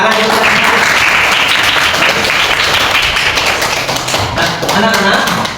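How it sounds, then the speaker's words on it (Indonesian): Children in an elementary classroom clap their hands for correct answers, a loud, dense, sustained round of applause close by, with young voices calling out amid the clapping. "Tepuk tangan ya."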